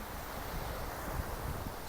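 Steady wind buffeting the microphone over the rolling surf of a beach in Alicante, Spain, a constant broadband roar with soft low rumbles and no distinct breaks, no one speaking.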